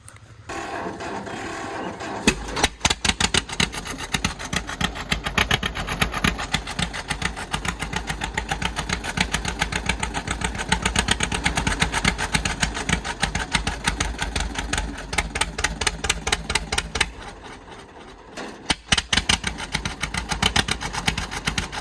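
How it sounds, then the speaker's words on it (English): An old tractor engine cranks and catches, then settles into a loud, rapid, steady chugging idle, briefly faltering before thumping on again. "I like this old tractor. Should we fire it up?"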